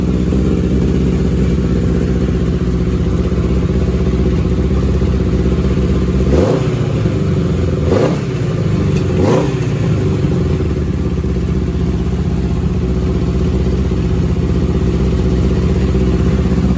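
A 1982 Honda CB900F four-cylinder motorcycle engine idles steadily on all four cylinders, close and loud, with a few brief blips of the throttle in the middle. No one speaks.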